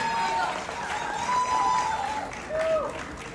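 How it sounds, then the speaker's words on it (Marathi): Audience applause at a Filmfare award ceremony fills the hall as a dense, continuous clatter of clapping, with voices carrying over it throughout. "जोरदार टाळ्या."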